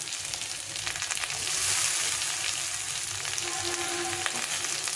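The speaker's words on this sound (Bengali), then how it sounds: "এখন আলুটাকে একটু ভেজে নেব। সুন্দর করে একটু ভেজে নিতে হবে।" Diced potato pieces fry in a pan of oil while upma is being made, a continuous moderate sizzle with faint stirring scrapes near the end and no voices.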